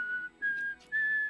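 A person whistles a short tune in three clear, sustained, steady notes, close and fairly loud with small gaps between them and no talking over it.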